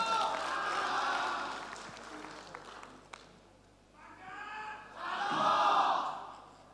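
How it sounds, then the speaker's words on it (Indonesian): Audience at a Tulungagung regency election candidate debate applauds and cheers, swelling in bursts that fade and then surge again near the end, with crowd voices mixed in. "Tepuk tangan untuk pasangan calon 2."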